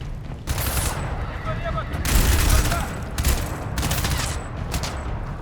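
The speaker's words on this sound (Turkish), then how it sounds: "Lan kim sıkıyor lan bana?" Rapid bursts of automatic gunfire strike at the player in the shooter game Crysis 2, loud and close, several volleys across the span with heavy booming low end, no voices.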